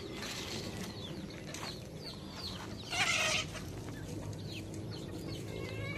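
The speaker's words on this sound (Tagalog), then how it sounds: "Ito yung mga manok at pabo natin" Chickens and turkeys clucking softly in the background with a brief burst of wing flapping, set in a quiet outdoor farmyard ambience.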